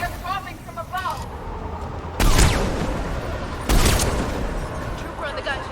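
In Mass Effect 3, a mounted gun fires during combat with shuttles dropping troops overhead, producing two sharp, loud bursts of gunfire that ring out and decay amid battle noise, with voices talking before and between them.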